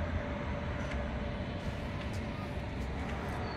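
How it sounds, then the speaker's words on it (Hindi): An idle railway engine stands on a track near a house, giving off a steady, dense low rumble that continues throughout with a faint, even noise wash above it. "रेलवे का इंजन खड़ा है, खाली इंजन है शायद ये रेलवे ट्रैक है घर के पास।"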